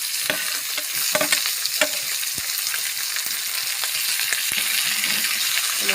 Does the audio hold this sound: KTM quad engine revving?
no